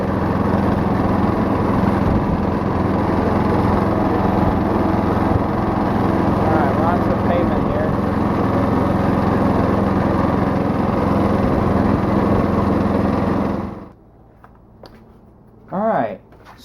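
An old riding lawnmower engine runs loud and steady at close range, then cuts out abruptly near the end. A short voice follows in the quiet.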